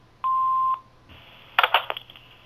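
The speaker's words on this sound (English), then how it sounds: "Please leave your name and phone number after the beep." An answering machine gives a single long, steady electronic beep, followed by a brief cluster of clicks and tones, with no voices present.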